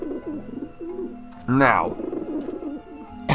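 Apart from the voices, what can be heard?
pigeons cooing in Grim Fandango Remastered (video game)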